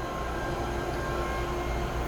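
A Seoul subway Line 3 train at Wonheung station, a steady loud rumble with a faint tonal whine, continuous and close, with no voices.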